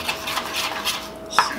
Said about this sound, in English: I'm using a metal spoon. I'm supposed to be using a wooden spoon.